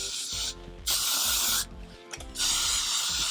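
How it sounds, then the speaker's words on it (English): Hairspray from a can is sprayed onto the underside of a wig in three loud, close hissing bursts, each lasting about half a second to a second, with short pauses between them and no talking. "I'm gonna tilt it, angle it, spray the bottom."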